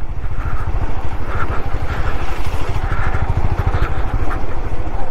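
A motorcycle engine-brakes downhill on a North Sikkim mountain road between Gangtok and Lachen, with no throttle or clutch. The close, loud, steady engine drone throbs rapidly and continuously.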